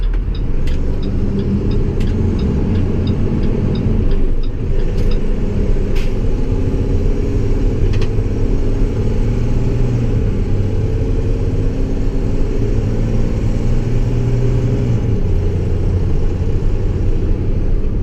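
International Durastar truck with a Cummins 6.7 engine cruising on the highway: a steady, loud diesel drone with constant low rumble and road noise throughout, no voices.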